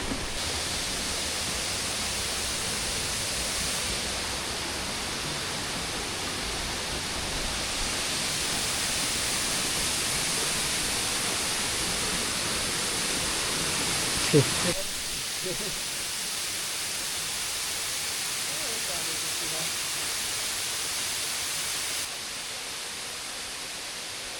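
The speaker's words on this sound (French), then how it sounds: "ça c'est une petite cascade, 15 mètres" A small waterfall about 15 metres high on the Güejar River in Colombia gives a continuous, even rushing roar close by, with a single brief knock midway before the sound drops slightly near the end.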